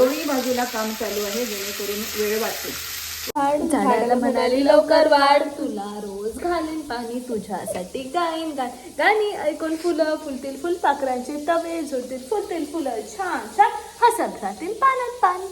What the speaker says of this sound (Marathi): आता इकडे आम्ही बांगडे आणि सोंदळे फ्राय करतो.